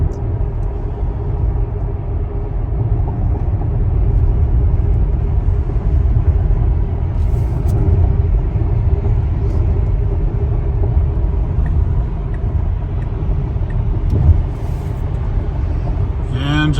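A Tesla Model X tows a trailer onto Interstate 85 North, and inside the cabin there is a steady low road rumble and tire drone that stays fairly loud and unbroken throughout.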